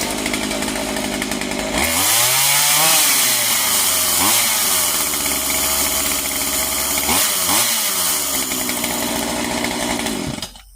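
Husqvarna 137 chainsaw, just fitted with a new fuel line and filter, fires up and runs loud and close, its two-stroke engine revving up and down in several surges before cutting off abruptly.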